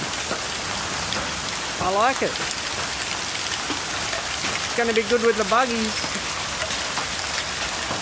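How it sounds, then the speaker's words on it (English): Hail hammering down on an outdoor buggy track, a dense, loud, constant patter and hiss filling the whole stretch, with someone talking over it midway. "We've got the hail coming out."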